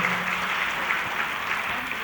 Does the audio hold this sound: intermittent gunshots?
no